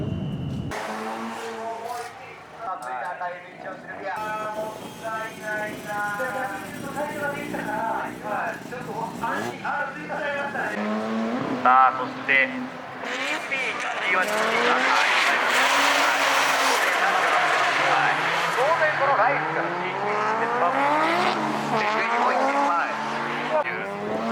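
A D1 Lights drift car at Nikko Circuit revs hard with sustained tire squeal and skidding, the engine note rising and falling continuously throughout, under an excited commentator's voice.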